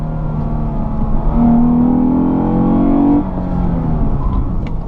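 A 2015 Lexus GS 350 F Sport's engine revs up steadily under acceleration, a smooth rising drone that climbs for a couple of seconds, then drops back to a lower hum when the throttle lifts, heard from inside the car.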